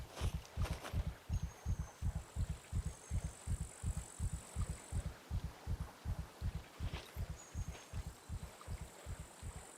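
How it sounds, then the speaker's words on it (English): Player character's heartbeat at low stamina in the video game SCUM, a steady, fast, close thumping of about 26 beats that keeps an even rhythm throughout, with faint game ambience behind it. "I can hear my heart beating when I run out of stamina"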